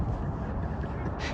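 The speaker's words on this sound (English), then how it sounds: "Here come the geese." Geese honk as they fly past, a brief cluster of nasal calls heard at moderate distance over a steady background rumble.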